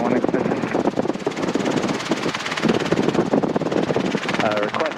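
Robinson R22 helicopter engine and rotor running during an off-airport training flight, a constant loud drone with rapid rotor pulsing, heard under cockpit and radio talk.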